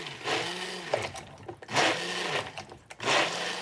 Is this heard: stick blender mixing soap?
yes